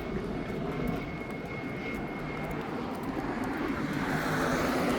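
A quiet helicopter passes overhead during a suburban dog walk, its steady engine drone holding level and swelling slightly toward the end, with no talking.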